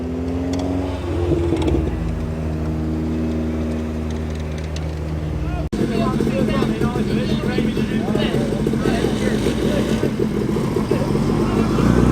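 A pair of Mazda MX-5 roadsters drive past close by, a loud engine drone with a tonal note that gives way to a rougher, busier roar as the second car goes by.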